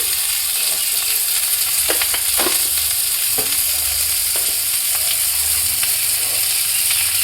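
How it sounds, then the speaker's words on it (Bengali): Potatoes and drumstick pieces frying together in a pan, with a steady close sizzle and a few scraping stirs of a spatula, no voices. "আলু আর সজনে ডাঁটাগুলো একসাথে ভেজে"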